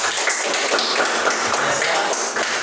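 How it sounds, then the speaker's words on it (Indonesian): A small group of participants in a school guidance-counselling session claps together, producing a dense, continuous patter of close, fairly loud hand claps. "Ya, tepuk tangan."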